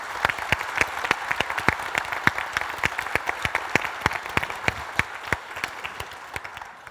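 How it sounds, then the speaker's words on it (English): Conference audience applause for presenters, a modest crowd clapping steadily with distinct, closely spaced claps that slowly thin out toward the end, no speech over it. "once again, big applause for these guys"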